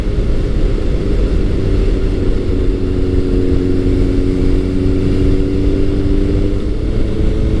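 A Kawasaki ZRX1100 with a Dynojet jet kit, pod filters and a Two Brothers exhaust runs loud and close, holding a steady, dense engine drone with a constant low hum throughout.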